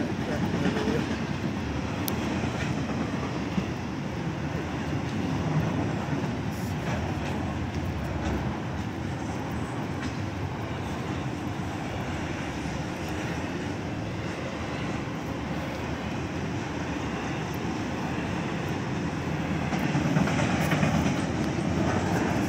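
Kansas City Southern freight train rolling through Altamont, Illinois, a steady loud rumble of cars and wheels that holds level for the whole stretch and swells slightly near the end.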